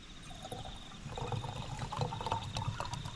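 Cherry Coca-Cola is poured into a whiskey drink at a bush campsite, a soft close liquid pour with gurgling and fizz running for a few seconds.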